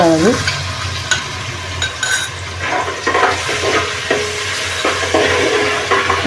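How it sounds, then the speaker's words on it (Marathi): Ginger, garlic and chili frying in a pan for veg pulao, with a close, loud sizzle and repeated stirring scrapes and clinks of the spoon, and no voices. "आता आपण आलं लसूण मिरची जाती"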